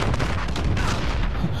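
Gunfire in Call of Duty: Modern Warfare, a dense burst of loud shots and blasts packed into under two seconds, filling the mix with no voice over it.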